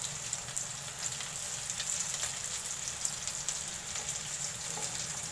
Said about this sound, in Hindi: ये मैं सारे फ्राई कर दूंगी